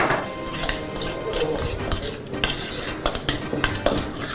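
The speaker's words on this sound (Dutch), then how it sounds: "En dit mengen we en laten we dan even trekken." A spoon scrapes and clinks around a bowl as a pesto salad is mixed, with a steady rustling stir and occasional sharper taps.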